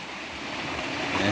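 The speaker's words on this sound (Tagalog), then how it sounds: "Medyo malaki yung alon mga idol" Large ocean waves wash and surge near a boat as people prepare to board, a steady broadband roar of surf that swells slightly toward the end, with no voices.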